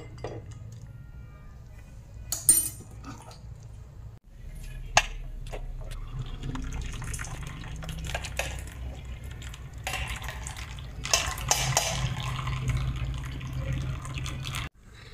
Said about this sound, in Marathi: आता हे एका वाटीमध्ये आपण गाळून घ्यायचे।